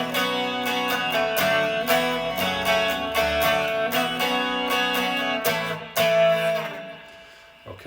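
Strummed guitar plays the verse chords of a song, with bright repeated down-up strums and ringing chords, close and moderately loud, fading out at the end.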